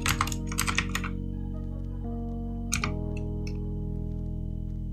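Computer keyboard keys tapped in a few quick bursts during setup of a text editor for HTML work, crisp clicks near and clear over a steady electronic hum, no talking.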